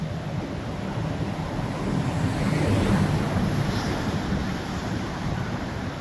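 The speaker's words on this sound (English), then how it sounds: "So the whole creek just comes through that little culvert." Creek in Sinclair Canyon rushing through a small culvert beneath the road: a steady, loud, broadband roar of water that swells slightly midway and carries on alone without any talking.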